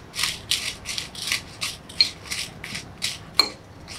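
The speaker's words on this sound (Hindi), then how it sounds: "पहले हम मिर्ची डाल देंगे और इसे चला चला कर हम भून लेंगे।" Whole red chillies and dry spices with curry leaves being dry-roasted in a pan for chatpate chana, stirred in a steady rhythm of about nine dry rasping scrapes with a sharp clink near the end, close and moderately loud, no talking.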